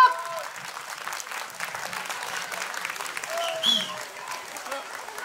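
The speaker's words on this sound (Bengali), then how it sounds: "আর একটু জোরে হাততালি হোক।" An audience claps steadily for a children's drama performance, a dense, continuous wash of hands swelling briefly near the end, with a voice talking over it.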